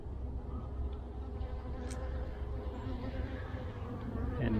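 Honeybees buzz steadily throughout a February hive inspection, a dense, continuous insect drone close by with a low hum beneath, no talk over it.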